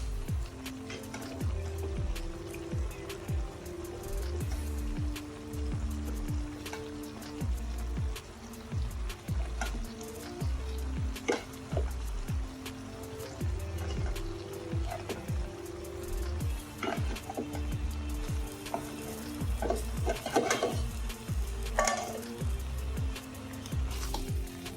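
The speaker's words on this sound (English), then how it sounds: "The trick is to keep mixing that baby till all that rice is one color" Rice is stirred and mixed in a pan as it cooks to golden brown, making repeated close, wet squishing and scraping strokes in a steady rhythm over a low background hum, with no talking.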